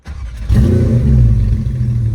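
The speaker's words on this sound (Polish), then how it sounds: "Dobra, odpalimy samochód." A Porsche 911 992 GT3 engine fires up with a sharp burst and settles into a loud, steady, throaty idle-rev close by, with no one speaking.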